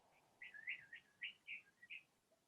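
A bird chirps a quick, bright series of about half a dozen tweets, faint and somewhat distant, alone against a quiet background.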